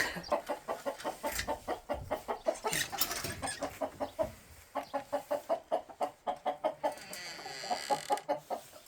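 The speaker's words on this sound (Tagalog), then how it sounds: "Pagkaingay naman ng mga manok." Hungry chickens cluck in a rapid, rhythmic series of short calls, several birds close by, with a brief pause midway before the clucking resumes.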